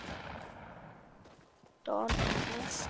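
Gunfire in an online shooter video game, a faint stretch of game noise followed by a louder burst of rapid shots, with players talking over it.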